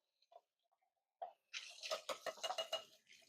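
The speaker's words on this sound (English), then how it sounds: "So it's important you rinse out your beans." Cool tap water rinses canned beans in a strainer for a jambalaya: a few soft drips first, then a steady, close splashing stream with pattering bursts as the beans are shaken.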